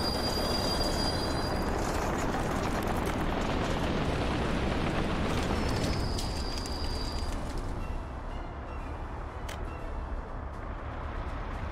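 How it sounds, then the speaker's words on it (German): A train in a city-building game rolls in with a loud, steady rumble of wheels on rails and a brief high squeal, the roar easing slightly near the end. "Da kommt der Zug."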